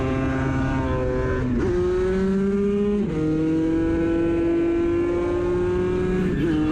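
Racing motorcycles in the 250/300/Moto3 class scream around a race course, their high-pitched engines climbing through gear changes with sharp drops between shifts, loud and continuous with no voices.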